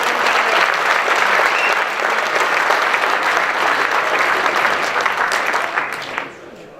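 An audience at a town New Year's greetings ceremony in Angresse claps in a dense, sustained round of applause, steady and fairly close, tapering off over the final second.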